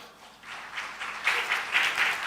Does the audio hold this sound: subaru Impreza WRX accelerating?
no